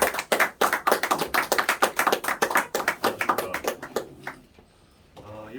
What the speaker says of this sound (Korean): 힘찬 박수로 환영해 주시기 바랍니다